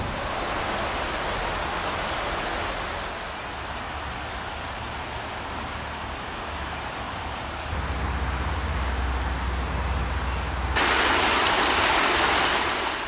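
Little Hunting Creek, a brook trout stream in Cunningham Falls State Park, flows in a steady, broad wash of rushing water with no voices, swelling somewhat louder near the end.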